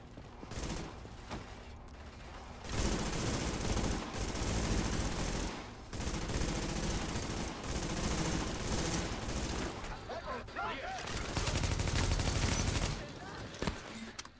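Sustained automatic gunfire in the shooter Tom Clancy's The Division, with loud bursts of rapid shots rattling for several seconds at a time and separated by brief pauses, close and dominant, with voices speaking between and under the firing.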